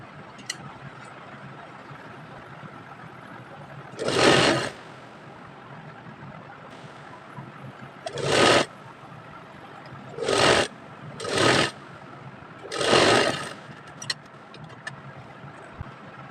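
A sewing machine stitches elastic into a little girl's top, running in five short bursts of steady mechanical whirring separated by quiet pauses, close and moderately loud with no talking.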